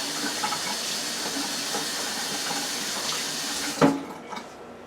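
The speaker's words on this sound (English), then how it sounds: "let me wash this." A kitchen sink tap runs steadily as cut shrimp are rinsed under the stream, a constant close hiss of water that stops abruptly with a small clatter near the end.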